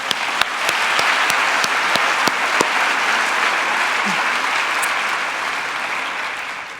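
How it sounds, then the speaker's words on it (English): Sustained audience applause fills a literary event hall in person, steady dense clapping with a few sharper claps standing out near the start, continuing evenly throughout. "Could we have a round of applause for this amazing community?"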